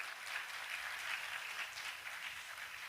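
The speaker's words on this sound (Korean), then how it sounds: "우리 박수 한번 부탁드립니다." Steady audience applause fills a hall at a political forum and prayer seminar, a dense even patter of many hands clapping without pause at moderate volume, no voices heard over it.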